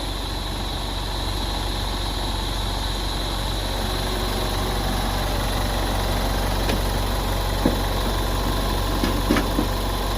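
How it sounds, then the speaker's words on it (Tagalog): A 3.0-litre Isuzu 4JJ3 turbodiesel in an Isuzu D-Max pickup idles steadily and evenly, with a constant low engine drone and a few faint clicks toward the end, and no talking. "papasilip ko sa inyo yung makina 4JJ3."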